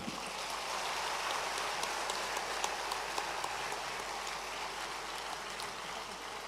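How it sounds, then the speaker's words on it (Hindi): Dense, steady applause from a large audience at an official government ceremony in Madhya Pradesh, a continuous even wash of many hands clapping at once. "आइए जोरदार तालियों से अभिनंदन करें।"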